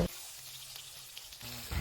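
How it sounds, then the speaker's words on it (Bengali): Katla fish fries in oil in a pan, giving a faint, even sizzle with a few soft utensil taps. "মাছটা তেলের মধ্যে ভালো করে ভেজে নিব"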